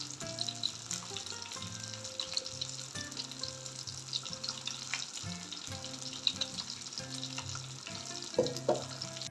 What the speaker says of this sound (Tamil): கிரேவி வந்து கொதிக்குது